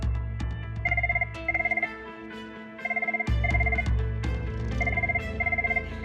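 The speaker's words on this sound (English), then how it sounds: "Oh, we got a phone call." A telephone rings in three paired bursts of trilling bells, evenly spaced and fairly loud, over steady background music tones.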